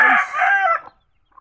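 Pet chickens clucking up close, loud and animated, a run of rapid clucks and cackles lasting under a second before dropping to quiet, with a faint cluck at the end.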